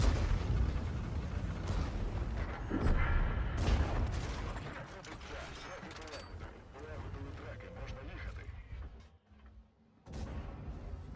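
Artillery shells and gunfire strike around a KV-4 heavy tank in the World of Tanks video game, with repeated loud booming impacts and rumbling blasts over several seconds, a sharp hit near the end, and talk running throughout.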